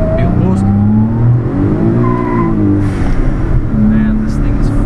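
A 1991 Daihatsu Atrai kei minivan's three-cylinder turbo engine pulls hard in second gear, its steady drone rising in pitch as it builds boost, loud and close from inside the cabin.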